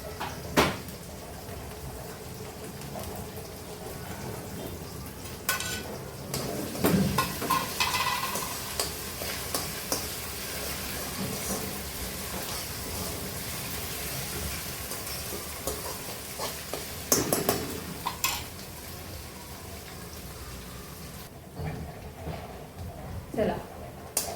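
Green chili, ginger and garlic paste hits a hot pan for spinach toor dal varan, giving a steady low sizzle with stirring clinks and scrapes while a voice talks over it.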